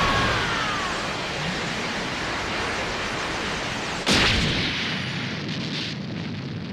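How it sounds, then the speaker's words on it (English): Super Key Explosion ultimate from the game Dragon Ball Xenoverse 2: a long rushing, roaring energy build-up that ends in a sharp blast, followed by a sudden drop to a thinner fading rumble. "And that was a super key explosion."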